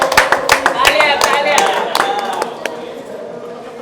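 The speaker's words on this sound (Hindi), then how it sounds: "सबसे पहले बॉलीवुड अड्डा दलवंदर के लिए एक बार तालियां हो जाए।" A crowd claps at a Netaji Subhash Chandra Bose Noble Peace Award 2022 ceremony, the loud, dense applause mixed with sharp claps and overlapping talk. It fades toward the end.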